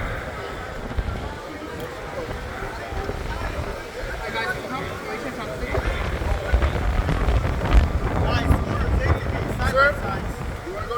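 Wind gusts steadily outdoors in Nassau, Bahamas, on a warm, breezy day, making a broad rushing buffet across the microphone that grows stronger in the second half.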